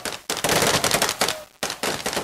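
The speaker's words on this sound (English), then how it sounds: "Libyans greeted the death of the dictator with celebratory gunfire." Rapid bursts of celebratory gunfire in Libya crackle continuously, loud and dense, with brief gaps between volleys.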